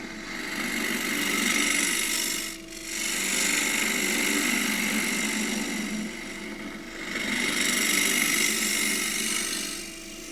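A woodturning gouge on a lathe cuts a groove into a turned pagoda box, giving a steady, fairly loud scraping hiss that briefly dips twice as the tool lifts off the spinning wood.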